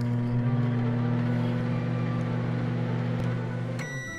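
A microwave oven runs inside the video game Jazzpunk: a steady mechanical hum with a strong low tone drones continuously and close, fading slightly at the end as a higher electronic tone cuts in.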